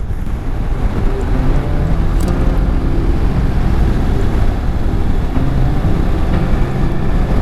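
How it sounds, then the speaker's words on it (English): Strong, gusty wind from the tail end of Storm Agnes, heard at a campsite in the Shropshire Hills as a steady, loud rumbling roar that buffets the microphone throughout, with no voices. "I'm sorry if it sounds ever so windy, but this is the tail end of that storm Agnes."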